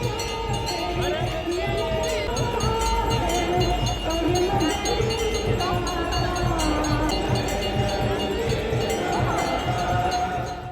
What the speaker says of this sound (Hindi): वहाँ इतनी भीड़ थी गाइस कि हम लोगों से खड़ा भी नहीं हुआ जा रहा था